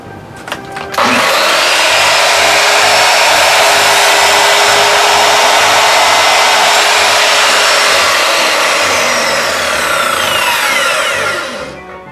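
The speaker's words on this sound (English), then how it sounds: "And let's cut this wood." Saw cutting wood at home, a loud, steady motorized whine that starts abruptly, holds for about ten seconds, and then winds down, close to the listener.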